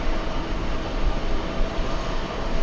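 Large passenger jets approach to land at JFK, a loud, continuous broadband engine roar that holds steady without a break.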